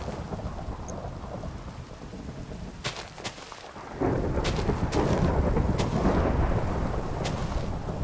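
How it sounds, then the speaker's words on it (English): A Minecraft thunderstorm: steady rain hiss with sharp thunder cracks and a loud rumbling roll that swells midway and stays heavy to the end, with no talking. "the thunder is very loud"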